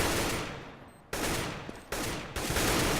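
Bursts of AK-47 fire in a competitive multiplayer shooter match, several loud sharp volleys in quick succession with brief gaps between them, close and dense, without talk.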